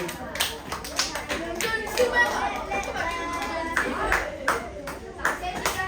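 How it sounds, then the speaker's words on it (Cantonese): Brief applause in a classroom group-presentation setting: close scattered hand claps mixed with chatter and voices throughout. "俾個掌聲埋佢先"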